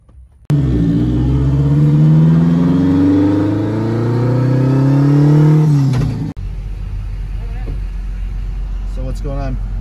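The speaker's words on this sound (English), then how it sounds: "make sure that it full throttle shifts properly" A car engine at full throttle climbs through the revs in a loud, sustained pull with audible gear shifts, then cuts off abruptly; a low rumble and faint voices follow.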